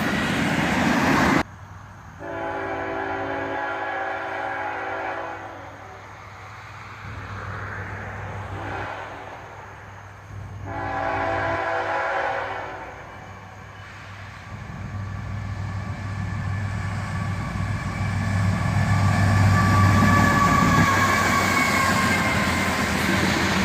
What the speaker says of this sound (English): An ES40 DC and a flared radiator sd90mac lead this train.